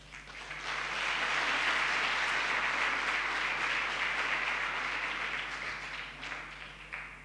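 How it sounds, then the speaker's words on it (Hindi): Sustained audience applause in a coaching class in Khargone rises quickly, holds steady and loud for several seconds, then thins toward the end. "आपकी तालियां इसलिए भी बजनी चाहिए"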